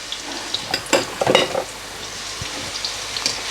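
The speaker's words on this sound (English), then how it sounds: "the Karela have been frying away for about 5 to 6 minutes" Karela, bitter gourd pieces, frying in hot oil in a pan: a steady close sizzle with a few clattering stirs and scrapes of a utensil in the first half, then continuous bubbling crackle alone.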